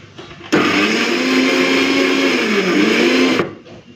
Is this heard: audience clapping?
no